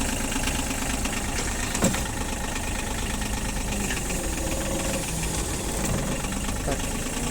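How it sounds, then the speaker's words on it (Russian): A Japanese mini excavator with a tiny 0.01 cubic metre bucket runs steadily at idle, a loud, even engine drone with a knocking rattle, close up and unbroken throughout. "Работает мотор прямо достаточно завидно"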